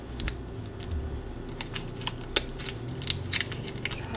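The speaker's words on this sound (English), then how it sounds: "I'm just going to cut it in half with a knife while it's still in the pack." A knife saws through food still sealed in its plastic package, giving a close series of irregular crinkly clicks and scrapes over a faint steady hum, with no voices.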